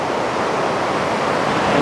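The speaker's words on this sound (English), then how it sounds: "The closer that you get down here to water level, just the bigger these waves" Whitewater rapids and waves below Niagara Falls, seen from near water level, give a dense, constant roar of rushing water that is loud and close, with no talking.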